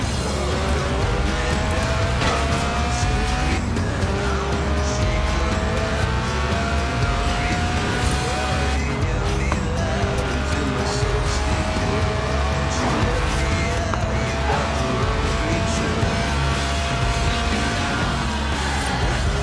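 A Lotus Elise Sport 190, a tuned, stripped-out track-day version, driven in Forza Horizon 4: a loud, continuous engine note climbing through the revs and shifting gears repeatedly, with tyre noise underneath.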